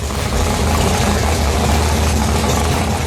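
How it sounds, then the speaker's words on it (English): A race car engine idles with a steady, low, rumbling burble, close and continuous, with no talk over it. "Every engine lover knows that sweet sound of an engine that is ready to race"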